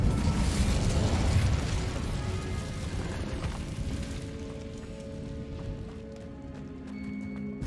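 A loud, roaring burst of fire from the Incendio spell in Hogwarts Legacy fills the first few seconds, then fades into a lower, rumbling crackle with faint ringing tones.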